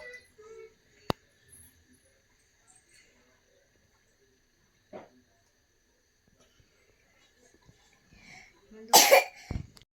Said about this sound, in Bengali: এখন কাশি হচ্ছে